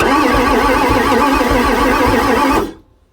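A 1994 Ford F450 with a 7.3 diesel engine cranks steadily without catching, its starter churning loud and rhythmic for over two seconds before cutting off abruptly into silence.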